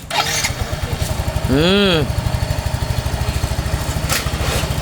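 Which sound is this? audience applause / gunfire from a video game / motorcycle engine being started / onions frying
motorcycle engine being started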